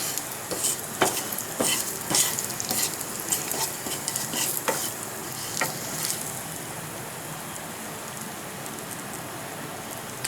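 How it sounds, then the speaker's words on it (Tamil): Cut boiled eggs are stirred and fried in masala in a pan for egg biryani. Repeated spoon scrapes and taps ride over a steady, close sizzle, and the stirring eases off in the second half. "இந்த முட்டையை இதில் சேர்த்து லைட்டாக பரட்டி எடுத்துக்கலாம்"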